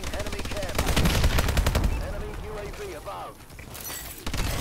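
Rapid automatic turret gunfire rattles loudly in a Call of Duty: Advanced Warfare multiplayer match, dense bursts under a player's voice, easing off before another burst at the end.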